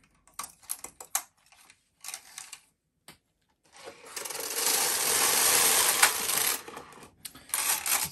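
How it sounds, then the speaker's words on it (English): A Bond knitting machine clatters as rows are knit, with short bursts of clicking, then a longer continuous rattling carriage pass lasting several seconds, followed by more brief clacks, close and fairly loud. "I'll knit a few rows, take it off the machine"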